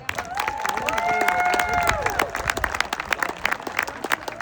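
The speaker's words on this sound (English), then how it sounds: "Let's give a round of applause for the Gang of Eight." Loud applause from a crowd, with cheering and whistles, gradually thinning into scattered claps toward the end.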